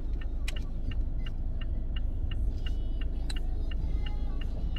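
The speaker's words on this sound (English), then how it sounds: "what's this car doing?" A car drives along with a steady low engine rumble heard from inside, while a regular ticking, like a turn signal, repeats at an even pace throughout.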